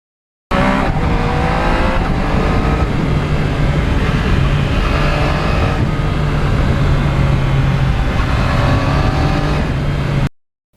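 A 2020 Yamaha MT-09 motorcycle rides on wet, bumpy road, its engine a loud, continuous drone with rushing wind and road noise throughout, ending abruptly without any voices.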